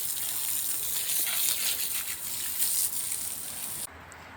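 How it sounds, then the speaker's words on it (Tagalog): Heavy rain pours down outdoors beside a swimming pool, a dense, steady hiss of drops on water and surfaces that continues loud and unbroken, then drops off sharply near the end. "malakas yung ulan"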